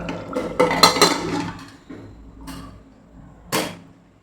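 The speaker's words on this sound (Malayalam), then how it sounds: "നമുക്കിതിനെ മൂടി വെക്കാം" Metal pot lid set onto a cooking pot of rice and water, with a burst of clattering clinks up close, then a few lighter knocks and a final sharp clank.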